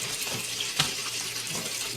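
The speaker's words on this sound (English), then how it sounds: "Turn the water off." Water runs steadily from a tap into a sink, a soft continuous hiss with a small splash partway through, fairly quiet and alone.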